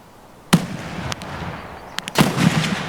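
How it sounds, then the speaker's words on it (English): Gunfire in the shooter game Escape from Tarkov: two sharp, loud shots about a second and a half apart, each followed by a short echoing tail, with no talking. "Someone is shooting me over there."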